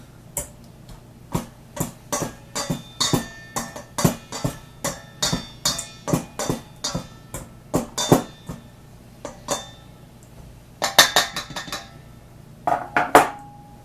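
Pie dough being mixed in a bowl with a utensil, giving a steady run of sharp clinks and scrapes at a moderate rhythm, close by, with a denser flurry of rapid clatter toward the end and no talking.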